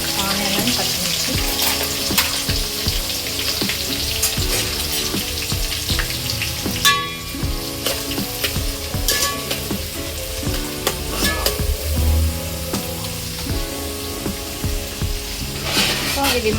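Onions and green chillies fry in hot oil in a pan, giving a loud continuous sizzle with frequent metallic scrapes and clinks of a spoon stirring.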